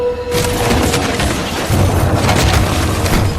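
Loud, booming gunfire from a film fills the whole stretch as a dense, sustained blast rather than a single crisp shot.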